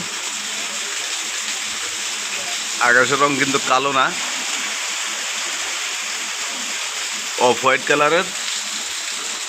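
Steady outdoor rain makes a constant broadband hiss throughout, with a person speaking briefly twice over it.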